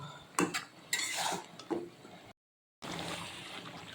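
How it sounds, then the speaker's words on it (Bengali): Turmeric powder being stirred into a cooking pot gives a run of clattering scrapes and knocks of a spoon against the pot, with a short silent gap and then steadier stirring noise. "এখন একটু নাড়বো হলুদের গুঁড়াটা মিশায়"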